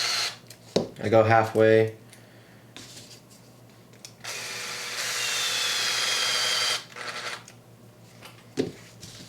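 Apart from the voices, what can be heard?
power driver installing droop screws on RC car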